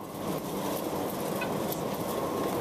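Rows of caged chickens in a large egg farm barn in Pocheon, Korea cluck and murmur in a dense, continuous low chorus, blended with machinery hum, with no clear talk.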